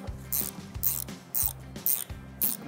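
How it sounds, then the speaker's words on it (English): A Milwaukee impact wrench hammers at stubborn bolts on a John Deere 1910 air cart, firing in five short rattling bursts separated by brief pauses, close and loud with no talking. "Milwaukee Impact here, so we'll see what we can rip off."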